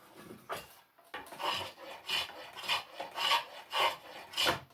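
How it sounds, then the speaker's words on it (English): A draw knife held flat side down shaves wood while a chair is being made, producing a series of rhythmic rasping strokes, about eight close pulls with short pauses between them. "I've got the handles on this draw knife set for what I call flat side down."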